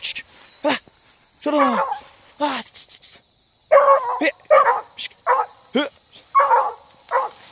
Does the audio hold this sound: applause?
no